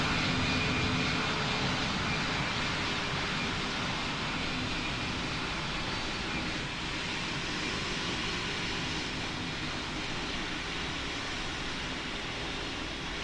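Airliner engines roaring steadily during a takeoff roll in the Roblox PTFS flight simulator game, a loud, continuous broadband rumble that holds for the whole stretch with no talk over it.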